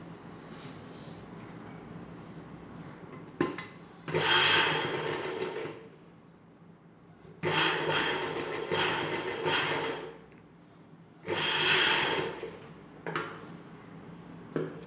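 Sewing machine stitching piping onto an umbrella-cut top, running in several bursts of a few seconds each with brief quieter pauses and handling of fabric between them.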